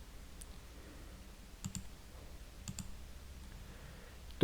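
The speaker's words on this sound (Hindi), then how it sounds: "अब इसकी 6 एंट्रीज है, इस पर क्लिक किया" Computer mouse clicking while working in Microsoft Excel: a few soft, quick clicks, some in close pairs, spaced over several seconds against faint room hiss, near and quiet with no talking.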